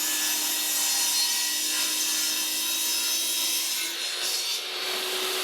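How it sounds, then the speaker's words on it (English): Table saw ripping wooden boards for a picture ledge shelf, a steady high whine with a rough cutting rasp, close and continuous, dipping slightly toward the end. "Using a table saw, I want to rip down the boards at the 4 and 6 inch mark"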